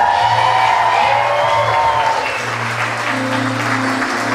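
Wedding reception guests break into loud, sustained applause for the couple's parents, a thick wash of clapping with a little cheering, while music hums low underneath.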